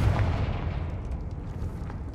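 Confringo spell blast in a Harry Potter video game: a sharp heavy boom up front followed by a rumbling decaying tail with scattered crackles, loud and close.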